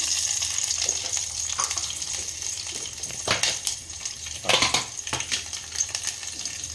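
Green chillies dropped into hot oil with heated tempering seeds crackle and sizzle close by, with sharp spluttering bursts over a steady frying hiss and no talking.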